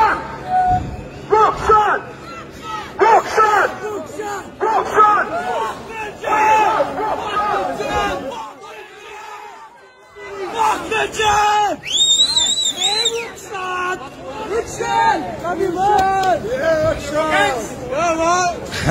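Outdoor protest crowd of construction workers opposing lockdowns in Australia, loud massed shouting and chanting, a brief lull midway before raised voices and whistles-like cries swell again, continuous and close.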